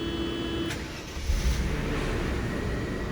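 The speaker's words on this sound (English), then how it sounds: "Now we're gonna start it up, turn the AC on" A 1994 Mercedes W124 E320 engine cranks briefly and catches, then settles into a steady low idle.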